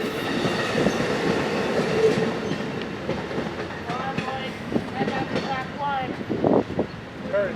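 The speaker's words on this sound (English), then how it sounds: "here comes another freight train about to blow through Fullerton" Freight train passing through Fullerton, a steady close rumble with rhythmic clickety-clack of wheels on rail joints and some squealing, while people talk over it.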